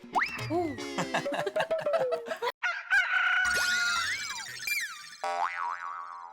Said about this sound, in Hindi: लगता है मुर्गा घर में घुस गया है।